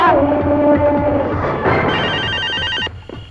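A telephone rings in an office scene from a Telugu feature film, its repeating electronic tones loud and close for most of the clip, with voices and other sounds mixed in beneath.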